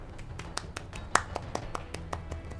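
Slow, light golf claps, a dozen or so soft evenly spaced claps from one person close by, marking a win in a Homeworld: Deserts of Kharak tournament match.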